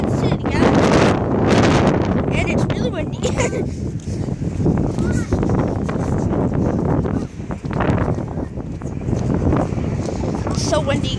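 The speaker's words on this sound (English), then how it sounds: "So windy, guys." Strong outdoor wind buffeting a microphone on a city street, loud irregular gusts rumbling and swelling throughout, with a person talking through the noise.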